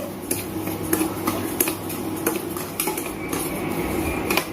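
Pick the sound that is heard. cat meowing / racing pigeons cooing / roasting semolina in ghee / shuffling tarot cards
roasting semolina in ghee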